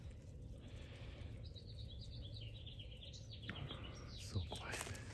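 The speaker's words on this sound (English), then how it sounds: "When it's kind of foggy like this, it's so quiet. Everything you hear is the birds." Birds sing on a quiet foggy morning, with a run of thin chirps and tweets at a distance over faint low rumble, followed by a brief louder burst of calls near the end.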